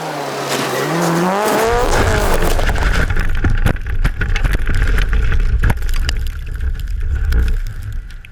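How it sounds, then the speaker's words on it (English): On stage 4 of the 2017 Rallye Perce Neige, a rally car's engine revs and sinks, then loud, close crunching and scraping impacts follow as the car rolls over. The tumbling continues in rough bursts until it fades. "Labrie and Barrett won't be able to take advantage of the opportunity, rolling their car on stage 4."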